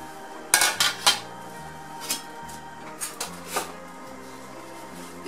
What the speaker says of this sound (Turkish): İrice doğradığım patatesleri tencereye ilave ediyoruz.